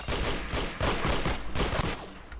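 Rapid gunfire in the Roblox game Arsenal, a loud, dense fusillade of overlapping shots in quick bursts that fill the whole moment, with no voices over it.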